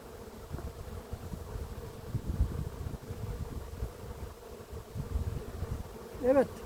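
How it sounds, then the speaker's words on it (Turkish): Honeybees hum and buzz in a low, wavering swarm close by, individual insects drifting past the microphone over a constant background drone. "Arı güzel nektar getiriyor."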